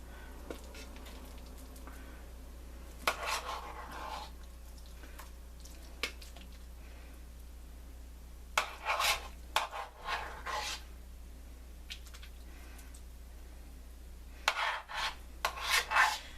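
A serving spoon scraping and scooping vegetarian shepherd's pie from a baking dish, with soft rasping scrapes and a few sharp clinks in irregular bursts, close and fairly quiet over a low steady hum.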